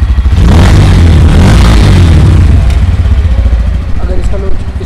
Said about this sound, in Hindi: तो एग्जॉस्ट की एक बार साउंड सुन लो,